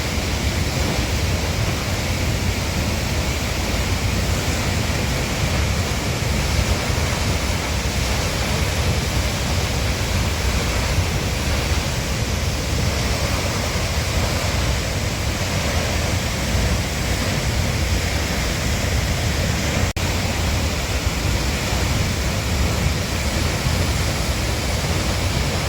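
Hardraw Force in Wensleydale, Yorkshire Dales, England's highest single-drop waterfall at about 100 feet, set in woodland, roars as a steady, dense, unbroken rush of falling water throughout, with no voices.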